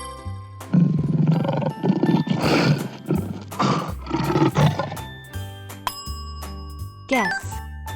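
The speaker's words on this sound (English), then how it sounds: "Lion." A lion roars in deep, rough bursts over layered quiz-game background music, loud and sustained through most of the clip, ending with a short chime.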